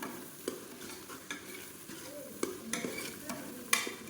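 Ground garam masala sizzles in a pan for mutton biryani, stirred with a spoon scraping in a loose rhythm over a soft, steady frying hiss, close and quiet, with no talking.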